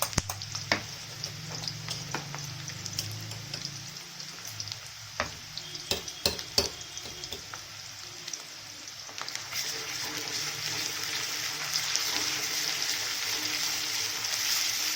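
Garlic-ginger paste and onion fry in a pan, a steady sizzle with clicks and scrapes of stirring, busier clatter in the middle and a louder hiss building toward the end, with no talking.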